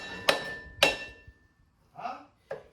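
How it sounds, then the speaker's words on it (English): A hammer strikes metal on the rear brake pads of a 2012 Ford Focus, giving two sharp ringing clanks and then two duller knocks, with short pauses between the blows. "We're gonna hammer these brake pads out"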